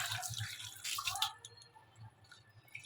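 Water runs and drips at a sink while a fish is rinsed. A dense, bright splashing stream fills the first second or so, then eases into quieter trickling and scattered drips, with no talking.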